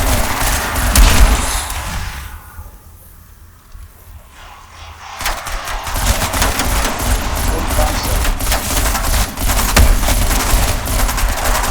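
Sentry gun fire in Call of Duty Zombies on a pistols-only match, sustained rapid automatic bursts that drop out briefly and then return loud and dense, overlapping heavy game gunfire and chaotic action.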